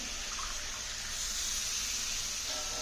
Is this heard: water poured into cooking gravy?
yes